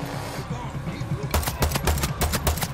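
Rapid pistol gunfire in the video game Far Cry 6, a quick run of sharp close shots in the second half with busy game sound beneath.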